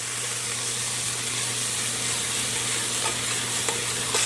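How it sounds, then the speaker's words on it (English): Onions sauteing in extra virgin olive oil in a pan, a continuous even hiss and sizzle heard up close with a low steady hum beneath and a few small pops, no talking. "Let's saute the onions until they're golden brown"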